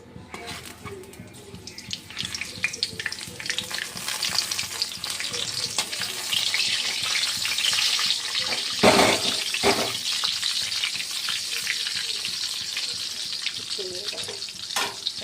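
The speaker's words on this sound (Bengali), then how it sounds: "পাপড় ভাজা হচ্ছে, তেলটা গরম করলাম" Papad fries in hot oil, a steady bubbling sizzle that builds and holds for several seconds with occasional sharper crackles and clatter, fairly faint in a kitchen setting.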